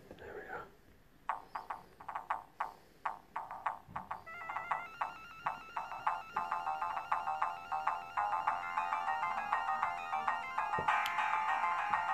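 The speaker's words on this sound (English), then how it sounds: "Shall we try Golden Axe, shall we? That's a pretty iconic soundtrack, isn't it?" Golden Axe soundtrack playing on a Sega Mega Drive ultimate portable game player: tinny chiptune music starting with sparse plucked notes, then building into a dense repeating melody, fairly quiet and steady throughout.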